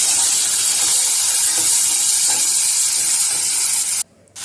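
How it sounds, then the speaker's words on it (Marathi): Onion and tomato sautéing in oil in a pan, a steady loud hiss and sizzle that runs almost unbroken, then drops out abruptly near the end before resuming. "आता कांदा आणि टोमॅटो मऊ होईपर्यंत आपण छान परतून घेऊया."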